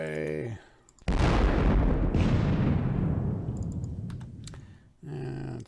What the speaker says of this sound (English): let's go in with the artillery. Fire away.